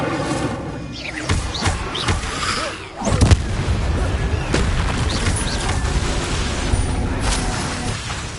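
A fire spell is cast in a video game, heard as a loud, dense roar of crackling, booming bursts with a heavy thump near the middle, sustained throughout.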